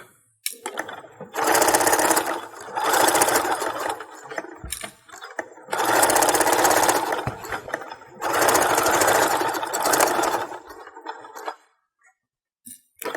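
A sewing machine stitches through a quilted Christmas stocking in three loud, rapid whirring bursts of a few seconds each, separated by short pauses and small clicks.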